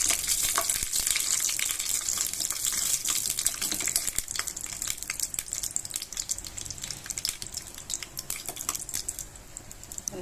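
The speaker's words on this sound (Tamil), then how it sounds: "போட்டுட்டு ஒரு 4-5 முந்திரி எடுத்து அதில் போட்டு கொஞ்சம் ஃப்ரை பண்ணி எடுத்து வச்சுக்கோங்க" Four or five cashews fry in a spoonful of ghee, giving a dense, continuous crackling sizzle that stays close and fairly loud throughout.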